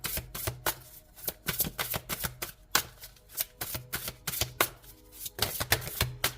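Oracle cards being shuffled by hand in bursts of crisp riffling and slapping, a quick uneven rhythm of papery flicks close up, with no talking.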